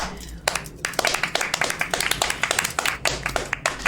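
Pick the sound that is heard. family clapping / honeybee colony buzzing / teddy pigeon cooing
family clapping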